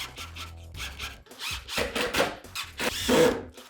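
A power drill drives screws into the hinge of a hidden door, with several short bursts of whirring and grinding close by, separated by brief pauses.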